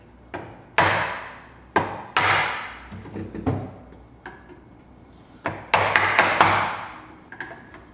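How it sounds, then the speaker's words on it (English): Mallet blows drive a chisel through wood while a cross halving joint is cut, with sharp woody knocks coming in irregular bursts, some single and some in quick clusters, loud and close with no talk. "whenever you do use a chisel and a mallet, make sure that the chisel is always upright"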